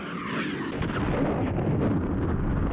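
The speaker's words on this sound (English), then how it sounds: "Friendly missile approaching target." A missile strike in a competitive online shooter game, a heavy rumbling explosion roar that holds steady and loud for a few seconds, dense and close, with no talking over it.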